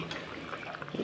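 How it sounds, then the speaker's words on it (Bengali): Koi fish curry broth with new potatoes bubbles at a rolling boil, a soft, continuous burble of popping bubbles heard close by, with no voices over it. "ঝোলটা টকবক করে ফুটে গেছে"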